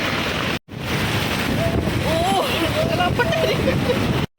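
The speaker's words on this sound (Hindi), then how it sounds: "लेकिन बारिश हो गई है देखो।" Steady broadband rain hiss fills the scene, with a few faint tonal chirps and muffled voices underneath; a brief dropout near the start.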